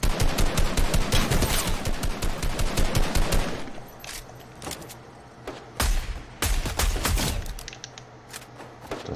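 Rapid bursts of automatic gunfire from a 50-metre engagement in the video game Fortnite, loud dense volleys for the first few seconds, then sparser sharp shots and short bursts with gaps between.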